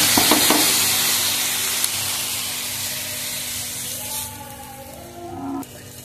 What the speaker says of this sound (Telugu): ప్యాన్ ఇప్పుడు మళ్ళీ వేడైంది కదా, ఈ విధంగా రొట్టెను వేసుకోవాలి